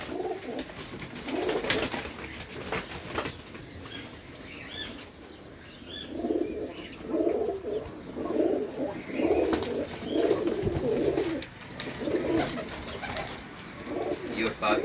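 Breeder pigeons in a loft coo in repeated soft, rolling bursts, with wing flaps and faint background voices around them.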